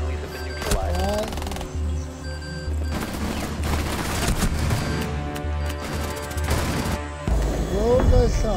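Gunfire bursts from a Rainbow Six Siege match, rapid broadband shots and volleys recurring through the stretch amid game noise and occasional voice sounds.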